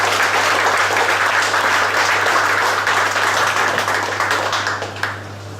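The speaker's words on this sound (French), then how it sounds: "on peut l'applaudir, c'est lui qui est à l'honneur ce soir." Dense, steady applause from a gathered crowd at an evening award celebration honouring a manager, sustained and loud throughout before tapering off slightly at the end, accompanied by a constant low hum.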